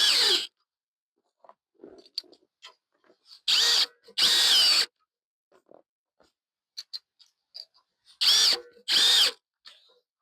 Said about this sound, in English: You must drill straight for it to fasten into the barrel.